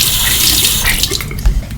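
Tap water runs into a sink for rinsing after tooth brushing, a close, continuous splashing stream throughout the short stretch.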